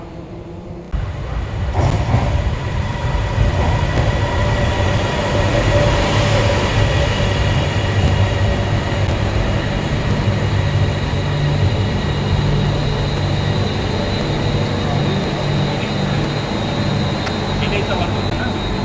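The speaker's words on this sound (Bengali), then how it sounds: "এই ট্রেন আমাদেরকে সুবর্ণভূমি এয়ারপোর্টের বেসমেন্টে নিয়ে যাবে" The Bangkok Airport Rail Link train, heading to Suvarnabhumi Airport's basement, rumbles along its track at a steady, loud level, with a constant droning hum and rattling carriage noise throughout, heard from inside the car.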